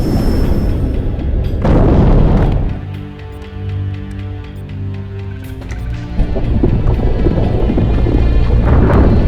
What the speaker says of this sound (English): Torpedoes 3 and 4 are away.